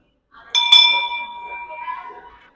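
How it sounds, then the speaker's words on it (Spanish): A bell at the exit of an Arby's fast-food restaurant in the United States is struck once, giving a bright, clear ring that decays slowly over about two seconds, close and loud. "ya en la salida vi que muchísimos tocaron esta campana, pero no sé cómo para qué la tocan"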